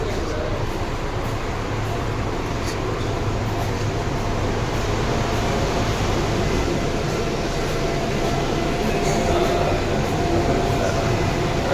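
A Singapore MRT metro train at an underground station on the Jalan Besar line gives a steady, loud rumbling drone with hissing air, continuous throughout.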